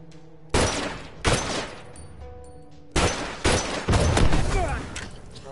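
Gunfire in The Last of Us rings out as a handful of loud, sharp shots in irregular bursts, some close together and some spaced apart, each trailing a brief echo, with occasional voices between them.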